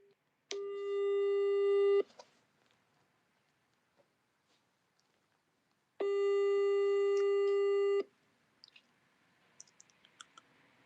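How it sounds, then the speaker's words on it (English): A telephone line sounds two long, steady tones with a quiet gap between them as a call is placed to a nurse's phone, followed by faint clicks and light tapping. "Let me see if she's going to pick up her phone."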